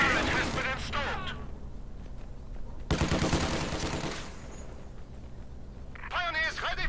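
Small arms gunfire rattles in the World War II strategy game Company of Heroes 2 as a dense, continuous volley of crackling shots, with voices speaking over the battle at the start and end.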